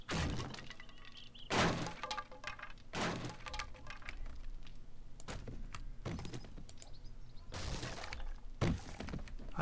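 Breaking into a building in the survival game 7 Days to Die, a series of sharp smashing and cracking impacts at irregular intervals over a low background, loud and close.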